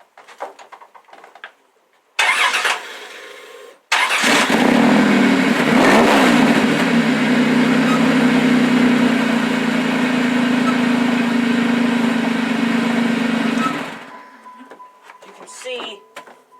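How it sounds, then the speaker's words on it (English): A 1994 Plymouth Voyager engine cranks briefly, catches and settles into a loud, steady idle close by, then cuts off near the end, with quiet movement before and after. "Now I'm going to start the car and step on the brakes."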